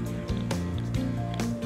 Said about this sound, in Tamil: போட்டு இந்த மாதிரி நல்லா பிசைங்க.